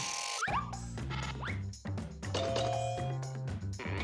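Meme bell sound effects from a Jackbox Party Pack game ring out several times in quick succession, bright ringing tones layered over game music, loud and upfront.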